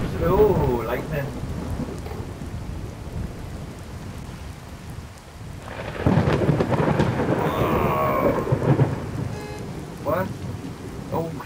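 A thunderstorm rolls through the Sightline video game, where steady rain is broken by heavy, close thunder cracks and long rumbles and a voice briefly exclaims over the noise.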